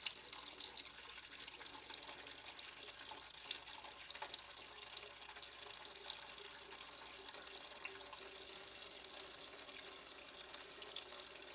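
Coolant draining from a 2008 Kawasaki ZX6R motorcycle during a flush, a steady close trickle of liquid running for the whole stretch with no talk over it.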